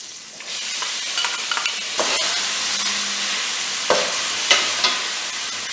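Onions frying in a pan on a slow home cooktop, a steady loud sizzle with occasional stirring scrapes and sharper crackles, no voices.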